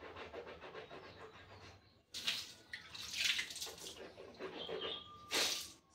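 Water is swished and gargled in the mouth in a rustic style, producing faint sloshing and bubbling with several sharper splashy spurts, likely spitting, in a quiet setting.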